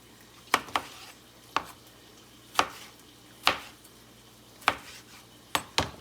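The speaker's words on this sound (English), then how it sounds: "got my nice pampered chef knife going here" Tomatoes being chopped with a Pampered Chef knife on a cutting board, seven or eight crisp, separate knife strikes at an uneven pace, close and clear over quiet kitchen background.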